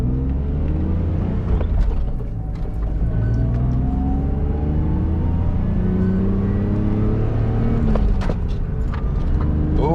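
A roughly 23-year-old BMW Z3 engine hums and rumbles steadily while driving, with rising and falling tones as it accelerates and shifts, continuous and close throughout.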